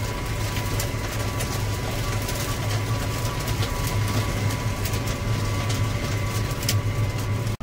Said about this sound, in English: It's dirt and rocks hitting my tractor.